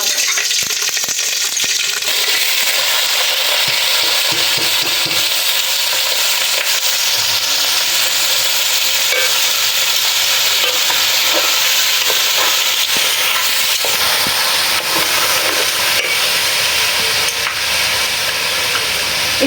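Bay leaf, cinnamon and cardamom fry in hot oil for biryani, giving a loud, steady sizzle and hiss that runs unbroken, with occasional faint stirring scrapes and no voices.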